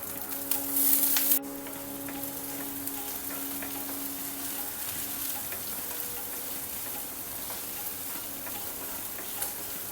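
Onion frying in oil in a pan for red pumpkin sabzi gives a steady, moderately quiet sizzle after a brief louder burst at the start, with a faint tone fading out in the first half.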